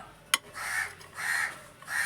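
Crows caw outdoors over rice put out for them, three drawn-out harsh calls at a moderate distance, with a sharp click just before the first.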